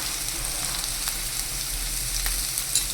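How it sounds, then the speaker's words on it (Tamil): Potatoes and beans fry in a pan with a steady, close sizzle, punctuated by light scraping taps as they are stirred. "உருளைக்கிழங்கு அது பீன்ஸு எல்லாம் ஒரே டைம் போட்டு கணக்குறேன் சரியா"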